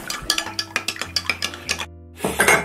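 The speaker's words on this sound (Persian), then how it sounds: "بعد همش میزنیم" A spoon stirs a milk and cream mixture in a pot for caramel panna cotta, giving quick, rhythmic clinks against the pot that pause briefly before the stirring resumes.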